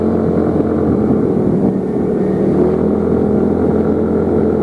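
A Suzuki Nex Crossover motorcycle engine drones steadily and loudly while climbing a mountain road, a continuous close engine hum with wind noise throughout.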